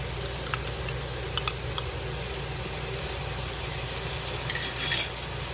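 Garlic stirred into leeks sautéing in a Ninja Foodi pot gives a soft, steady sizzle, with scattered light utensil clicks and a brief scraping stir near the end. No one speaks.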